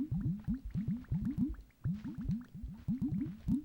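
SpongeBob's water squirt move in the Nicktoons Unite video game: rapid clusters of wet, bubbly squelching pops repeating in quick bursts with short pauses, fairly quiet and with no voices.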